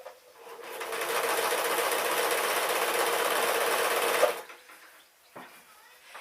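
A sewing machine stitches fabric for a pink dress in one loud, steady run of about four seconds, then stops abruptly, leaving faint handling clicks and quiet room sound.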